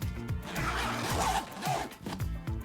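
A backpack zipper on a Shimoda Urban Explore 20L is pulled in several quick strokes, each a short rasping rip close by, with brief pauses between pulls.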